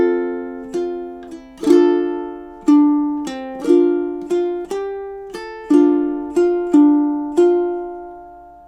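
Two measures of a song plucked on a ukulele, clear close notes and chords ringing out one after another at an unhurried pace, each decaying before the next.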